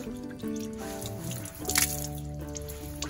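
Water running and dripping at a holy spring, a steady close trickle with splashes and a brief louder gush midway, no voices.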